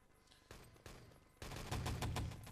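Rapid gunfire from the video game Enemy Territory during a competitive match. A few separate shots are followed by a dense, loud burst of automatic fire that carries on to the end.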